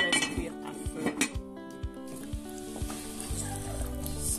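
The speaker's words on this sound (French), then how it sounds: "je vais laisser cuire à feu doux." Food sizzling gently in a pan on low heat, a soft continuous fry under clinking of cutlery and pans, with a few light metallic knocks and a faint voice.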